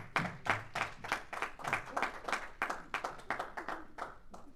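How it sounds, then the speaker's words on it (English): At a Toastmasters club meeting held at Oracle, a small audience keeps clapping as a speaker is welcomed, distinct nearby hand claps in an uneven, fairly quick rhythm that continues throughout. "Keep clapping, please."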